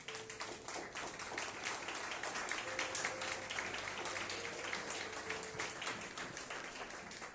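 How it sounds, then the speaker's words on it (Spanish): Congregation applauding during a Spanish-language church sermon, a steady broadband wash of clapping lasting throughout at moderate level, with faint organ or keyboard tones sustained underneath. "Dele ese aplauso al Rey."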